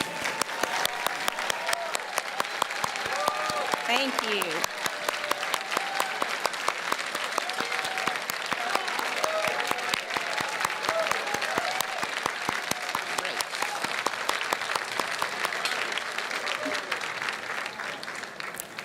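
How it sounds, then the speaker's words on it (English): A crowd at an arts auction gala claps at length for donating artists, loud sustained applause with sharp individual claps and a few voices speaking over it, including a brief thanks. "let's give them a round of applause"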